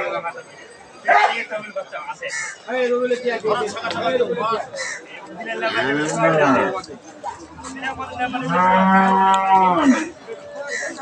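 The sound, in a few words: cow mooing at a cattle market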